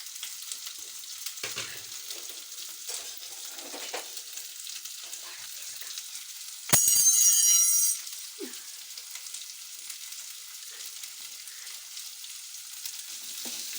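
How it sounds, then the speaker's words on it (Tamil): Small onions sizzle steadily as they fry in a pan while being stirred, with soft scrapes and one brief, louder hiss partway through. No voices are heard. "அப்புறம் இந்த வெங்காயம் போட்டுடணும். சின்ன வெங்காயம் கொஞ்சம் நிறைய இருந்தால் கொஞ்சம் டேஸ்ட் கிடைக்கும்."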